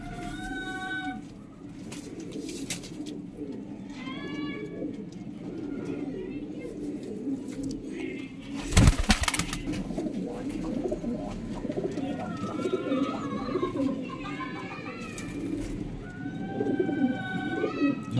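Breeder pigeons coo repeatedly in soft, rolling calls against a busy background, with people talking nearby and a loud thump partway through.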